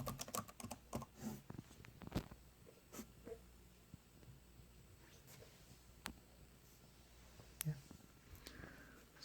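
Irregular bursts of clicking keystrokes on a computer keyboard, close and quiet, with denser typing at the start and scattered taps later.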